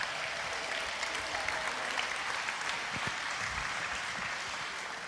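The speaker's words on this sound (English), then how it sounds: "Let's give them a big round of applause." A crowd claps steadily for several seconds, a dense, even wash of applause with no pauses.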